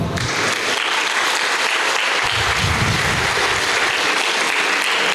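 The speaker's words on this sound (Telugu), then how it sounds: "ఒకసారి వీళ్ళకి జోరుగా క్లాప్స్ కొడదామా?" Audience at a bootcamp training session clapping loudly and steadily for several seconds, a dense close wash of many hands.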